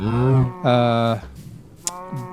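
Cows moo on a Minecraft cow farm built on a Bedrock server, with two long, loud, close lowing calls back to back and then a softer, shorter moo after a short gap.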